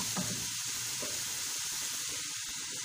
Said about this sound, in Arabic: تتشحر لينا هاد البصلة هادي